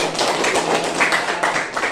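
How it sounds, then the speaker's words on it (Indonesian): Classroom students clap their hands together in a dense, steady patter that stays fairly even and continuous for a couple of seconds, with no speech over it. "Tepuk tangan"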